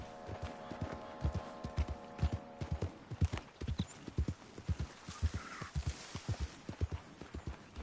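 Horse hooves clip-clop in a steady galloping rhythm in Red Dead Redemption 2, close and clear, with a brief whinny and some game ambience behind the repeating hoofbeats.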